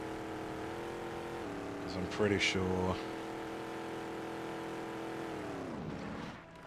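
A small, zippy vehicle in Halo CE runs with a steady humming engine drone, briefly rising and falling in pitch, while someone talks over it.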